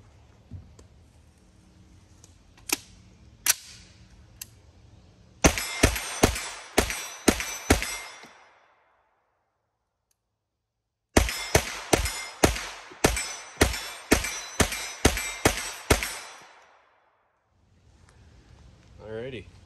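An HB Industries Stribog firing its last magazine: two strings of sharp, loud gunshots in quick succession, about seven then nine shots, separated by a silent gap, with a few quieter knocks before them.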